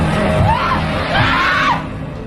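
A woman screams loudly during an attack in an action film, with two long rising-and-falling shrieks over a dense, noisy background.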